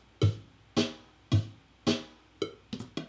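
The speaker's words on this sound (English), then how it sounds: "it's just going to be snare on the 2 and the 4, kick on the 1 and the 3" A simple programmed drum groove in Pro Tools with kick on beats one and three and snare on two and four, four clean evenly spaced hits followed by a few quicker trailing hits, dry and alone.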